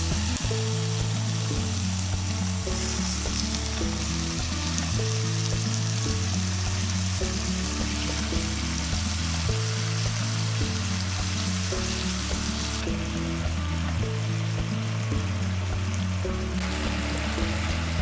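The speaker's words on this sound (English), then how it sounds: "Roast both sides of duck in a frying pan without cooking oil." Steady frying sizzle of duck searing in a dry frying pan without oil, a constant hiss running the whole time beneath looping background music.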